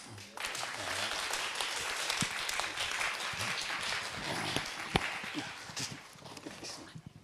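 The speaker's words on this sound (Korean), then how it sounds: "우리 박수할까요?" A church congregation at a Sunday service claps to welcome a visiting missionary, a soft, continuous patter of many hands heard from a distance, with faint voices mixed in beneath it.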